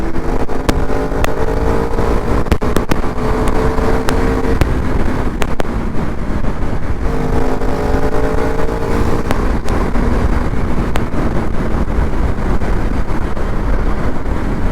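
KTM Duke 390 Gen 3 motorcycle engine heard while riding, a continuous loud drone with rising and falling revs across gear changes made with the quickshifter, close and steady throughout with no voices.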